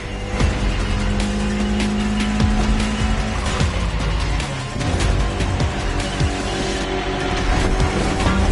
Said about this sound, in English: Everybody's car is on top of their game, especially your new ride, Toji's Mitsubishi Lancer Evo X